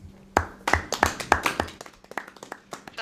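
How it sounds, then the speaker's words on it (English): Sparse handclaps from a small audience at a Dumfries & Galloway Council Community Planning Partnership Board meeting: roughly a dozen sharp, close claps spread over three seconds, loosely timed and thinning out toward the end. "giving you a brief round of applause and thanking you for your time and wishing you well."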